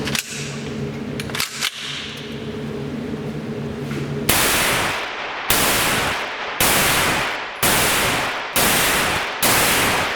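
A CZ Scorpion fires 124 grain +P ammunition outdoors: about six loud, sharp shots spaced roughly a second apart, each trailing off into a brief echo, after a stretch of quieter handling and background noise.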